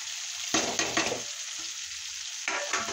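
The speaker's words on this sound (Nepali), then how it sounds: "अब माछा हाल्नुपर्छ" Fish being fried in a spiced tomato masala gives short, loud bursts of sizzling as it is stirred, with a quieter steady frying hiss in between.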